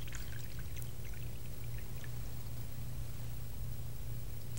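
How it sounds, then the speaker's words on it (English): Pure water pours steadily from a container during a stage magic trick, a continuous wash of splashing and trickling close by, with no talking over it. "Now, once they're removed, then you can pour just pure water."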